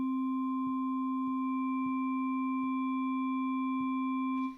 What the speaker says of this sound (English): we can hear the new harmonics that I'm adding to the sine wave